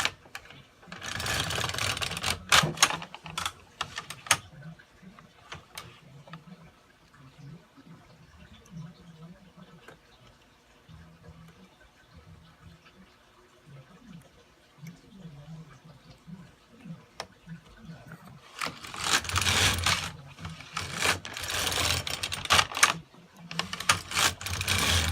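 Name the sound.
knitting machine carriage knitting rows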